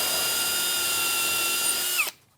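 A power drill pre-drilling a pilot hole whines steadily at high speed for about two seconds, then spins down and stops abruptly, close and loud.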